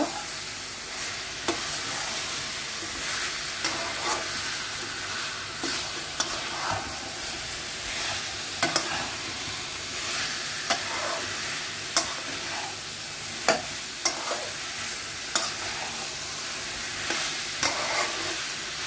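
Pork mixed with spices sizzles in a pan as it is stirred, a continuous bright frying hiss with scattered clicks and scrapes of the spoon recurring every second or so.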